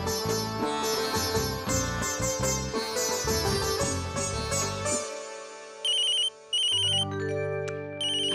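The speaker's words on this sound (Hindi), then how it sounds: "किसका फोन है?" An electronic phone ringtone plays a bright melody, then switches to repeated loud beeping rings, with no voices.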